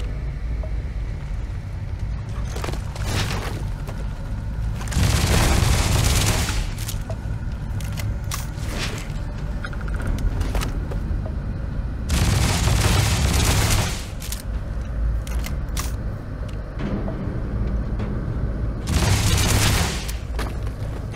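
Gunfire in Starfield, three loud bursts of repeated shots spaced several seconds apart over a quieter background of scattered noises, no talk.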